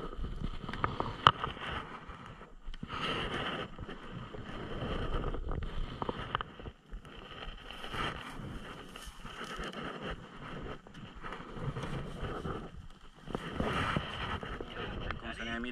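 A fishing boat for slow-jigging trips moves along at sea, a steady engine and wind rumble with water noise, under men chatting nearby.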